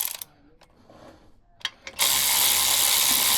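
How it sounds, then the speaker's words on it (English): A ratchet wrench loosening clutch pressure plate bolts on a Toyota AE86, a few faint clicks first, then a steady loud rapid clicking run up close. "Just taking off the clutch pressure plate bolts."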